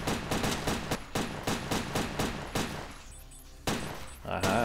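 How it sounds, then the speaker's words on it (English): Submachine gun fire in the PS2 game Headhunter: rapid loud bursts of automatic shots in quick succession, a short pause, then another burst, with game sounds around. "Aha, submachine gun."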